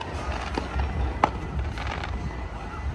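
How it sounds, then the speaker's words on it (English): Fireworks at night over the waterfront in Providence, Rhode Island, heard as scattered distant pops and crackles with one sharper bang over a continuous low rumble of background noise. "I wanted to show you guys the fireworks that are happening."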